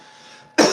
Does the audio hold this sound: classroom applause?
no